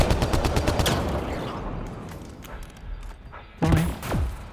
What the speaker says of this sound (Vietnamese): Đó, cái súng này phiền ghê luôn á